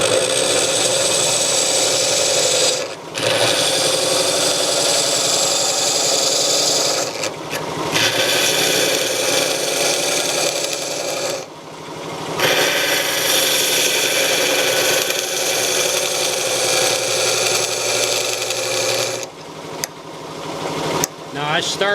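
A square scraper hollows the bottom of a wooden piece spinning on a lathe, making a loud, continuous rasping scrape close by. The scraping stops briefly a few times, with short gaps in between.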